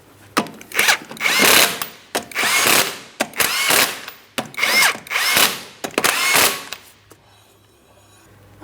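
A power tool spins the 19mm lug nuts on a 2003-2007 Cadillac CTS wheel in repeated loud, close whirring bursts of about half a second to a second each, separated by short pauses, with a ratcheting edge as each nut seats.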